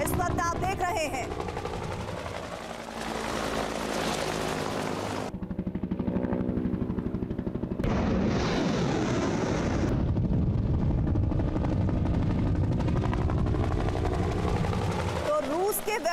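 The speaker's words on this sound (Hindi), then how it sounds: "2 MI-8 हेलीकॉप्टर्स ने एक साथ हमला किया है रूस के वेपन डिपो पर। अनगाइडेड मिसाइल से यह अटैक हुआ है" Two Mi-8 military helicopters fire unguided missiles at a weapons depot near Kharkiv, producing sustained loud roaring bursts and rumbling barrages with a gap of sharper rushing noise midway, heavy and continuous throughout.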